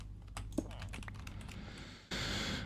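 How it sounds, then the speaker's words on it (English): Loud clicking of computer keyboard typing during a Minecraft session, a fast irregular patter of key taps, close and dry, that thickens into a dense burst near the end. "I'm sorry that my keyboard is loud."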